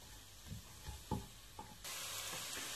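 Sliced bell peppers being stirred in a hot pan, with a few soft scraping stirs over a gentle sizzle that grows brighter toward the end; fairly quiet and heard alone.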